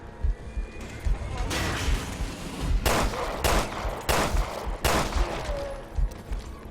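Gunfire in the video game Resident Evil: Revelations 2: several loud, sharp shots fired in separate bursts spaced a second or so apart, over in-game ambience and a voice talking.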